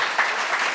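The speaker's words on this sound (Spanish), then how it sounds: "Fuertes aplausos a nuestro Dios." Applause in a church during a baptism service, a brief burst of dense clapping that holds steady and fairly loud through the short moment.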